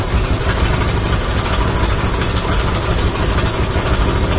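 A racing circuit motorcycle engine, switched on and started, settles into a steady idle: a dense, continuous low rumble with constant loudness throughout and no speech.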